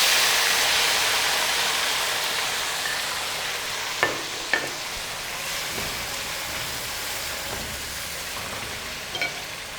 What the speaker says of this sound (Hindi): उसके बाद हम इसमें शामिल करेंगे टमाटर